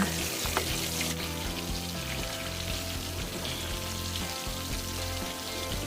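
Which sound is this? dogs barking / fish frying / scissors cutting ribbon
fish frying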